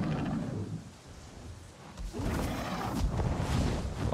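Thunderstorm in the game Avatar: Frontiers of Pandora, deep rolling rumbles swelling and fading over a wash of rain-like noise, loud and low, with a heavier surge in the second half.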